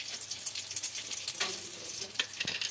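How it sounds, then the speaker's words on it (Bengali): Dried red chillies dropped into hot oil in a pan that was already used to fry pointed gourd, giving a steady close crackling sizzle with small spitting pops throughout, no voices. "আমি এই তেলের মধ্যেই পটলের তেলটা, তার মধ্যে কটা শুকনো লঙ্কা দিয়ে দিচ্ছি"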